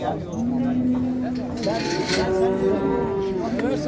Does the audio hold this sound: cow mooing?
yes